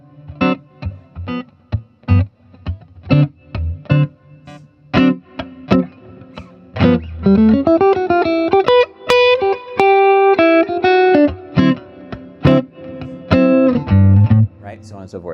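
An electric guitar with distortion plays a Lydian dominant lick over a D blues, starting with choppy staccato notes and then moving into sustained, bending melodic lines, loud and close.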